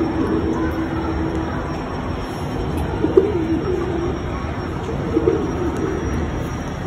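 Pigeons at a pigeon market, racers and other breeds for sale, cooing softly amid a constant outdoor rumble, with a few brief louder coos standing out.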